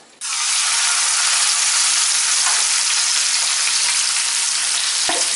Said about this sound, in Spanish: Voy a sellar el solomillo en aceite de oliva, le voy a agregar el tomillo